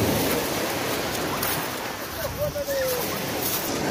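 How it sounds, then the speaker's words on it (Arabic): Rough sea waves wash steadily against the coast in a continuous broadband roar, loud and close, with faint wind and a brief high tone partway through. "ها هو البحر ناضي مخيف."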